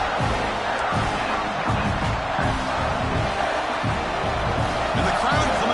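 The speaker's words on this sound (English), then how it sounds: "And the crowd coming to life here, trying to help this defense down in the red zone" A college football stadium crowd at a Virginia Tech game swells in noise as the defense digs in near the goal line, a broad roar with rhythmic bursts of cheering and stomping, continuous and loud.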